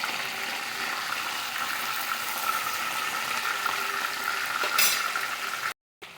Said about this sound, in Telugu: తక్కువ ఆయిల్తో డీప్ ఫ్రై చేస్తాను